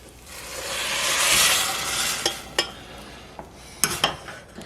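Brown rice and vegetable broth going into a pan with hot olive oil, a loud rushing sizzle that swells then fades, followed by sharp metallic clinks of a utensil against the pan.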